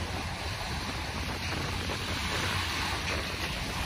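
Ocean waves roll onto the shore of Dolomite Beach on Manila Bay as a continuous broadband wash, heavily mixed with wind buffeting the microphone, with no talk.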